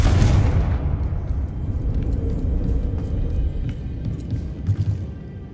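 Confringo fire spell exploding in Hogwarts Legacy, a loud blast that opens the clip and then settles into a rolling low rumble lasting several seconds, with no talk.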